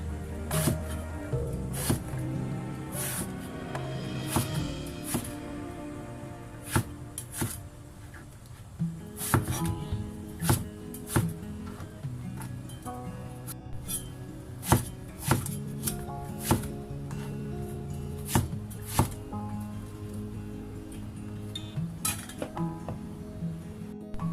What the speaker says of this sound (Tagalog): Iwain natin itong eggplant. Tapos, cut natin siya.